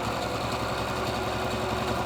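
A sewing machine back stitching the end of a fabric mask tie, running in a continuous dense buzzing whir at close range, steady and fairly loud for the whole stretch, alone without talk.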